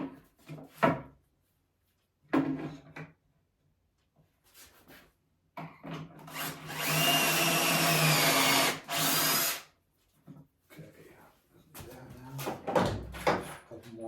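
A power drill drives screws into boards while framing the back of a barn quilt board, giving a loud sustained whir of about three seconds and then a shorter burst, with quieter handling knocks before and after.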